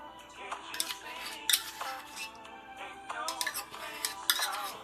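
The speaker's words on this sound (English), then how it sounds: "Get our spoon and get all of it out of there." A spoon scrapes meatloaf sauce out of a measuring cup, a few quiet, close clinks and scrapes of metal against the cup in irregular bursts.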